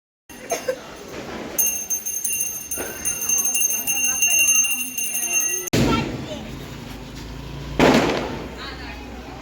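Diwali firecrackers go off outdoors in Tamil Nadu during the festival, with a couple of sharp, loud bangs over a busy background of thin ringing tones and distant crowd noise.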